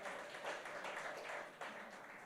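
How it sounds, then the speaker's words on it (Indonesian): A church congregation applauds during a Passover service, a steady wash of many hands clapping at a fairly low, distant level with a brief swell near the end. "Kita berikan tepuk tangan sekali lagi saudara untuk mereka."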